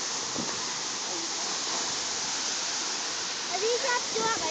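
A raging waterfall pours down in a loud, steady, unbroken roar of rushing water, with faint voices near the end.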